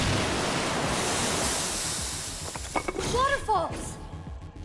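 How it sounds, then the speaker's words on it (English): Steady rushing white-noise roar of a waterfall in Minecraft: Story Mode, loud and continuous, with a few brief game effects and chirping tones breaking in near the end. "Waterfalls!"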